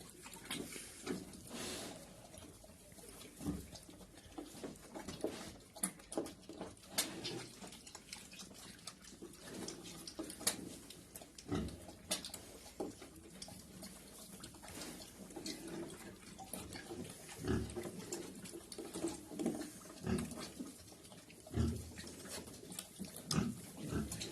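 Young piglets and a pig grunt and snuffle in a pen, with irregular close grunts and rustling, plus some splashing or clattering throughout.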